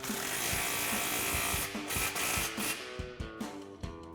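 An impact wrench with a 15 mm socket tightens an exhaust clamp behind the muffler of a 2024 Tacoma fitted with an MBRP Armor BLK single exhaust, rattling in rapid bursts of hammering that stop and restart several times, close up.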